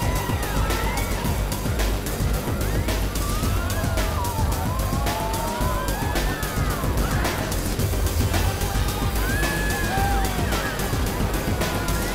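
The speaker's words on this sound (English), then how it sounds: "The sirens are awesome." Warbling electronic sirens sweep up and down repeatedly over a loud, dense rumble of roller coaster ride noise and clatter in a Planet Coaster video game, with no pauses throughout.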